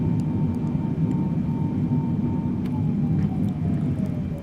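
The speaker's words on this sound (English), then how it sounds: "we're taxiing to the gate" A Boeing 777 taxis to the gate in Microsoft Flight Simulator 2020, its jet engines making a steady, loud, unbroken rumble with a faint whine on top.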